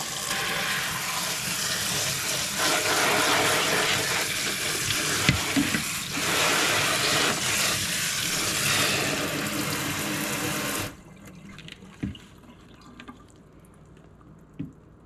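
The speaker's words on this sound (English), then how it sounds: "I just threw them into the strainer and pretty well just ran some water on them" Tap water pours steadily over wild strawberries in a strainer at a sink, a loud broadband splash that runs continuously for about eleven seconds before cutting off, leaving faint drips and small clatters.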